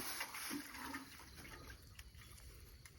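Fertilized plants are watered, giving a close, continuous splashing pour of water that gradually thins out, with a few drips toward the end and no talk.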